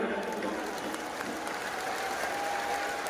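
A large crowd at a mass wedding ceremony claps with hands raised, a dense, continuous wash of applause at steady loudness throughout.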